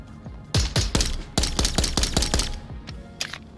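Rapid gunfire in the Onward VR shooter game, a fast string of sharp, loud shots in bursts over the first three seconds, then a few sparser reports, with no talk over them.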